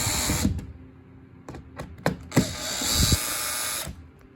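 Ratchet driving fasteners while mounting an Elkay drinking fountain, heard as several short bursts of quick clicking with pauses between, close and fairly loud, no voices.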